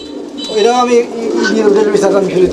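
Farm pigeons coo in soft, rolling calls close by, overlapping one another throughout, with a person's voice mixed in.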